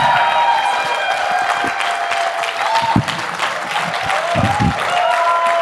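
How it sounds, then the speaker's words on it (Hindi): A crowd applauds at a second anniversary celebration, sustained loud clapping filling the hall with a few cheers, while voices talk and a faint tonal sound runs underneath. "जोरदार तालियां होनी चाहिए आपके लिए"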